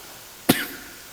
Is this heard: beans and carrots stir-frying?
no